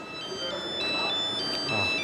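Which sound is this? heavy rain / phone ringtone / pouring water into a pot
phone ringtone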